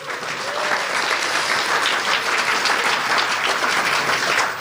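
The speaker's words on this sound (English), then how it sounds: "Where's the applause?" Sustained audience applause fills a conference keynote hall at CppEurope, a dense, steady clatter of many hands clapping throughout, with a faint voice briefly underneath.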